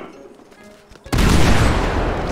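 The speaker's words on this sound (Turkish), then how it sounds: "C4 geliyor. 3, 2, 1 bomba attım." After a quiet moment, a sudden loud C4 explosion bursts in modded GTA 5 and leaves a sustained roaring blast and rumble.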